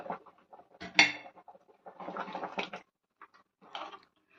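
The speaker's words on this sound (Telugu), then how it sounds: "చూసారా, బాగా కుతుకుతులాడుతుంది కదా." Moringa drumstick pieces simmer in sambar in a covered pot, giving irregular close bubbling pops and soft lid clinks with quiet gaps between bursts.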